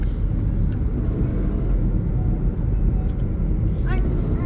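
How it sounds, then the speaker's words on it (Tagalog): Cars roll past on a busy street near Baclaran Church, a steady close rumble of traffic with a brief higher-pitched squeal near the end. "Ayan naman yung mga kotse."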